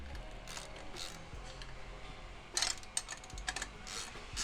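Turbo flange bolts being tightened with a ratchet on a Gen 1 Chevrolet Sonic/Cruze during a turbo install, quiet workshop ambience broken by short bursts of rapid ratchet clicking.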